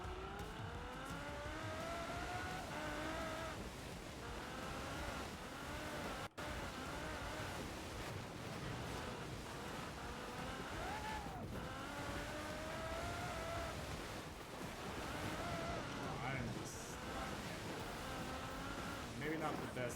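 Ferrari race car in a snowy racing video game, its engine revving and shifting continuously at a steady level beneath near-constant talking.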